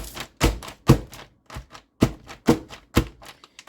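A string of firm, irregular crunching thumps as rice cakes are crushed by hand, close and loud, with short pauses between bursts.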